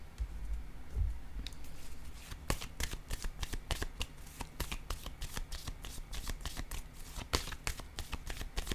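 Tarot cards are shuffled by hand, a rapid close patter of riffling snaps and flicks following a brief quiet start.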